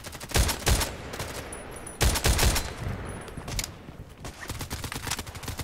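An SVD-S rifle fires in a video game, a few loud, close, sharp cracks spaced a second or so apart, followed by denser rattling bursts and echoing reports toward the end.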